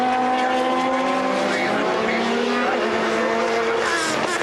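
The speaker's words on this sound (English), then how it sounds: "The spin meant a trip to the pits to hand back over to Bruno Senna ahead of schedule" Le Mans Series race car spinning out in heavy traffic at the Algarve 1000 km, a loud continuous engine roar with rising and falling tones and tire squeal, under a commentator's voice throughout.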